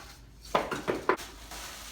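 A Pioneer Woman frying pan is lifted from its box and handled, giving three or four quick, fairly loud knocks and clatters of metal in a short burst, with no talking.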